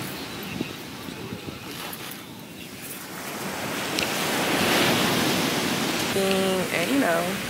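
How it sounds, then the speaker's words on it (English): Surf rolling onto a Dominican Republic beach, a steady broad wash of breaking waves with wind buffeting the microphone and a voice speaking briefly near the end. "We're at the beach."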